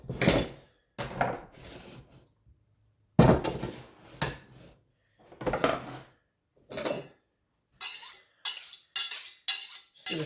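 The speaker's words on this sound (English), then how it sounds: "just going to sharpen the knife" Kitchen knife being sharpened in a home kitchen, a series of separate scraping strokes with pauses between, ending in a quicker run of short metallic swipes, no talking.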